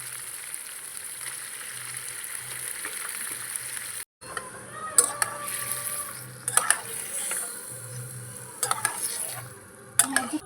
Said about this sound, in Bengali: এরপরে মটনগুলো আমি তেলের মধ্যে দিয়ে কষাবো